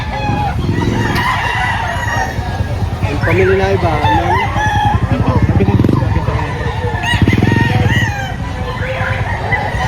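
Roosters crow and chickens cluck close by at a poultry market in Lipa, Batangas, with repeated loud crowing calls over steady clucking while people talk.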